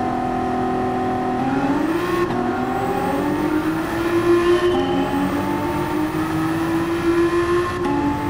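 A modified car engine racing in Gran Turismo 7, revving continuously and climbing through gear shifts with repeated rises in pitch, loud and close with no talk.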